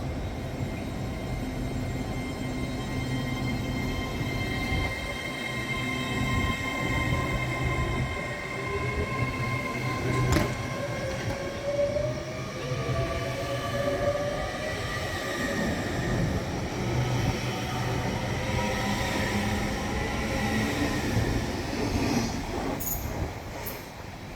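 An LNER train rolls steadily along the rails near Peterborough, slowing down, with a continuous rumble, faint wheel squeal and whining tones rising and falling, no voices.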